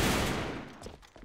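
Gunfire in the Counter-Strike video game, a quick rattling burst of shots that fades out within about a second.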